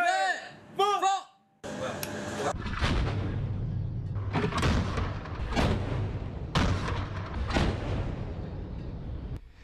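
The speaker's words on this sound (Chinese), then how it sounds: "临沂舰和东平湖舰载武器发射，成功拦截来袭目标。" Deck-mounted weapons aboard the Chinese Navy ships Linyi and Dongpinghu fire warning shots in the Gulf of Aden: after a few short tones come about four heavy, booming blasts spaced a couple of seconds apart, with a voice talking over them.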